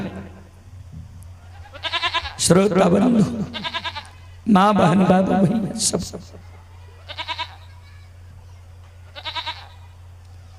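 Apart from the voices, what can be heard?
goats bleating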